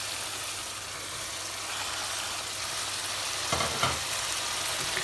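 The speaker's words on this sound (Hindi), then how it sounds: "मसाला हमारा भुन रहा है" Masala paste for a kofta and potato curry frying in a pan, giving a steady close sizzle with a couple of quick scraping stirs near the end and no talking.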